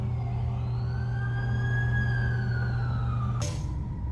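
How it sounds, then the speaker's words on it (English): An ambulance siren wails in a long rising and falling sweep during a scene from The Amazing Spider-Man 2, loud over a steady low engine rumble and ending in a sudden burst of noise. "That's the ambulance I called."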